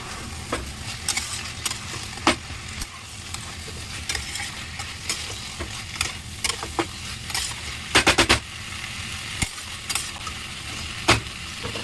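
Previously fried potatoes and soybean chunks are stir-fried in a cooked spice paste. A low, close sizzle runs under repeated sharp scrapes and clatters of a spatula against the pan, coming at an irregular pace, some in quick bursts.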